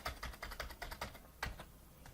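Quick, light clicking of a computer keyboard while a file is being renamed, a rapid run of keystrokes with a short pause before a final few taps, close and fairly quiet.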